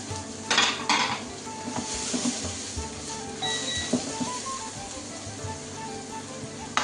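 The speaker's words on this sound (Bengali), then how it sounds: "দেখতেই পাচ্ছেন আমার পাত্র গরম হয়ে গেছে, এখন এর মধ্যে আমি ঢেলে দিচ্ছি রসুন কুচি, জিঞ্জার কুচি এবং পেঁয়াজ কুচি।" Chopped garlic, ginger and onion sizzle in a hot pan for a Manchurian chicken dish, a steady close frying hiss with clinks of a spoon against the pan and a soft tonal background throughout.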